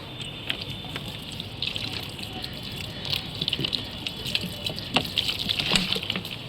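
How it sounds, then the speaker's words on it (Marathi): Water gushes and splashes steadily for several seconds onto potted plants, a continuous pouring stream with scattered drips, close and moderately loud. "आज जरा भरपूरच पाणी टाकावं लागेल"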